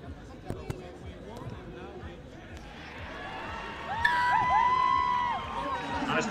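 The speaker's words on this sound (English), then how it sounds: "And it's the Welsh who are singing in the crowd." Welsh supporters sing in a stadium crowd at an England v Wales men's U18 Six Nations rugby match, a broad, steady wash of voices that swells in the later seconds, with a commentator talking over it.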